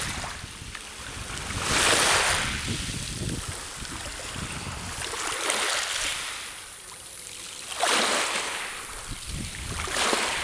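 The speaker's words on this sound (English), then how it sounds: "and the waves again" Ocean waves washing onto a beach at Mytilini, several surges rising and receding in slow rhythm, with steady wind buffeting the microphone throughout.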